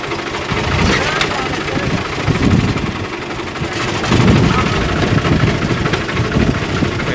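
A tractor engine in third low gear, moving slowly, rumbles steadily at close range, a low throbbing drone that swells and eases slightly, with no one speaking.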